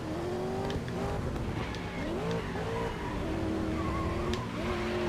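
GRID Legends touring racing car: a steady loud engine drone with rising and falling pitch through gear changes and braking, with brief tire scrub, continuous throughout.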